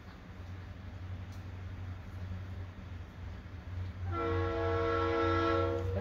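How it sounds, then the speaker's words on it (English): A train in a Spyro video game rumbles low and steady, then its horn blasts loud and sustained near the end, with the harmonic tone holding over the engine drone. "Train's really back."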